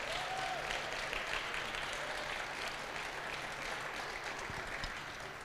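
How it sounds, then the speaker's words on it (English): An audience at the Goodwill Calgary Impact Centre grand opening celebration applauds the Goodwill Calgary team with steady, dense clapping that continues throughout at a moderate distance. "let's give them a big round of applause"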